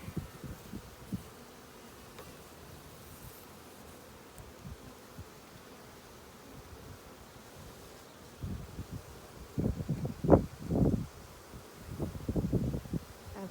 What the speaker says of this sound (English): bees all over my hands, so I'm trying not to push down on them